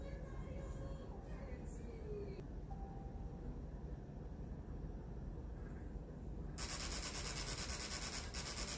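A Nintendo Wii disc drive with a disc read error grinds and rubs steadily under a constant background hum, with a brighter, harsher burst near the end.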